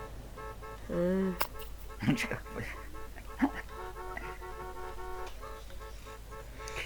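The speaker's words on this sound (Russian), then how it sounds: "хватит, не бибикай" A car horn gives one short toot inside a parked car, followed by faint engine idle and a few clicks while people talk quietly nearby.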